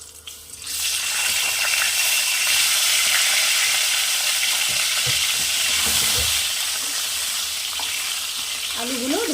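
Long-cut potato strips fry in hot oil in a pan, a loud steady crackling sizzle that swells soon after they go in, with faint stirring clinks and scrapes near the end.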